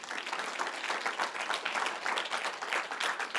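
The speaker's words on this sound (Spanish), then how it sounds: "Denle un aplauso al Señor" Church congregation applauding during a Sunday service, a faint, continuous spread of clapping from many hands heard at a distance.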